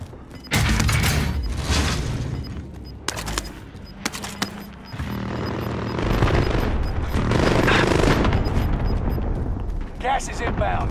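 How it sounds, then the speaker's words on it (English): Heavy hostile gunfire in the Call of Duty: Modern Warfare video game: loud bursts of automatic fire and explosive blasts come in irregular volleys, with a game voice announcing over the action. "Receiving hostile fire."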